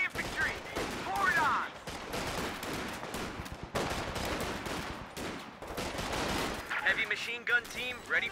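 Thompson submachine gun firing in a video game, a dense run of rapid gunfire bursts mixed with other weapons and battle noise that stays fairly loud and busy throughout.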